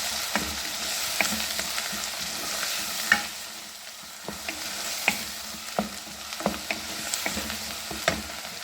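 Spices such as red chilli and turmeric frying in a pan, with a steady soft sizzle broken by repeated scraping clicks of a spoon stirring them, close and moderately loud with no talk.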